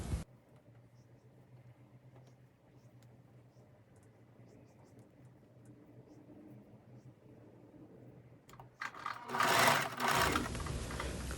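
A sewing machine stitching cardigan fabric runs steadily with a low mechanical hum, then grows louder and busier toward the end as the stitching speeds up.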